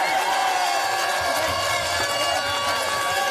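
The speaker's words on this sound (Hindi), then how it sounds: "अब आदरणीय कमलनाथ जी के लिए जरा जोरदार तालियों की गड़गड़ाहट से स्वागत करें।" A Congress party rally crowd in Raipur gives loud, thunderous applause welcoming Kamal Nath, a continuous roar of clapping and cheering that stays steady throughout.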